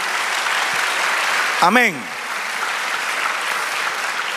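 A church congregation claps steadily, a dense wash of applause heard for a few seconds in a sermon setting, with a single spoken word cutting through midway before the clapping carries on.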